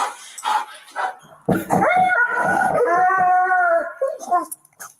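A police dog at an arrest scene gives a few short barks, then a loud, drawn-out howl with rising and falling pitch, close by and fading near the end.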